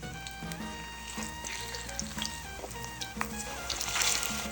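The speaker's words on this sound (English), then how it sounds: "I'm just going to place our plantain slices in that hot oil" Plantain slices fry in hot vegetable oil in a cast iron pan, a steady crackling sizzle running throughout beneath a tonal background, swelling slightly louder toward the end.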